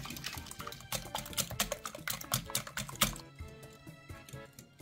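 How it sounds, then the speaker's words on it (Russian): Eggs beaten with sugar, a pinch of salt and vanilla sugar using a wire whisk in a bowl, a fast run of rhythmic clicking and sloshing strokes that stop abruptly near the end, no talking. "И перемешиваем венчиком. Нужно хорошо разболтать яйца."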